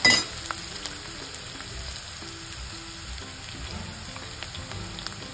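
Coarsely chopped garlic frying in a pan for a home-cooked vegetable dish, a steady close sizzle and crackle with a louder burst at the start, no talk.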